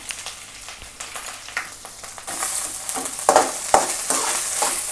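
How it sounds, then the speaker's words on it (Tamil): Grated coconut sautéing in a pan on low heat while being stirred, with soft scraping spatula strokes that grow into a denser, brighter sizzle midway, close and moderately quiet, no voices. "முடி தேங்காவை எடுத்து வதக்கணுப்பேன்"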